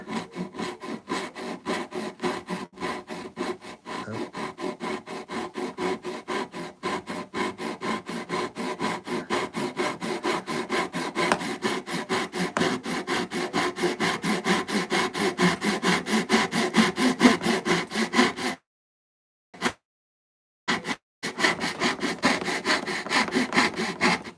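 A freshly sharpened hand saw rips through wood in steady, rapid back-and-forth strokes, loud and close, running continuously before stopping briefly near the end and resuming with a few more strokes.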